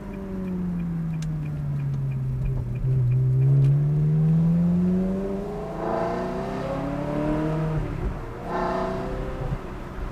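Ferrari 360 Modena engine revving loudly on a town street, pitch sweeping down and back up through long rising and falling runs, echoing off surroundings with faint ticking underneath.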